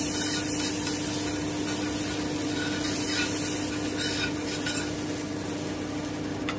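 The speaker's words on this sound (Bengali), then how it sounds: "আমি আরও একটা আপনাদের জন্য ভেজে দেখিয়ে দিচ্ছি। প্রথমে একটুখানি বাটার ব্রাশ করে নেব।" Butter brushed across a hot pan before frying bread pizza, a steady soft sizzle with light brushing scrapes running continuously, close and fairly loud, no voices.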